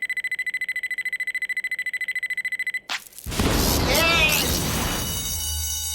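A bank alarm system rings in a fast, steady electronic pulse, then cuts off with a sharp crash that gives way to a loud, roaring wash of noise.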